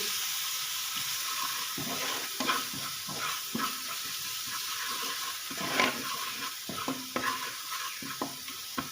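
Ginger garlic paste and coriander powder sizzling in a hot pan while being stirred, with steady frying hiss and repeated scraping strokes of a spoon close up throughout.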